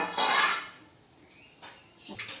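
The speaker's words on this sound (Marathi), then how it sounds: "तव्यावर झाकण ठेवायला लागेल, ते पहिलंच घेऊन ठेवते." A metal lid for a griddle is taken out and set in place in a home kitchen, with a brief bright clatter at first and then a few softer clinks.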